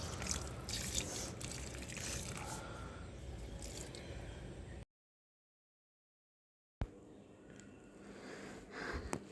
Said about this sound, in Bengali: ভালো করে জল দিয়ে দেব।